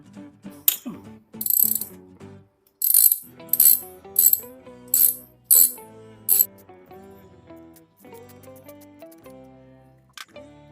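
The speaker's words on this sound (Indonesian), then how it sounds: "Memakai kunci 12. Kita buka berlawanan arah jarum jam." A 12 mm wrench works a stuck bicycle pedal loose counterclockwise, giving a series of sharp ratcheting click bursts in an uneven rhythm over a tonal background.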